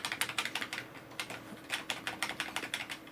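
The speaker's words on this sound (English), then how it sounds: "Smashing that delete key." A computer keyboard's delete key is hammered repeatedly during a file server build, giving a quick run of sharp, close, loud key clacks in an uneven rhythm, with no speech.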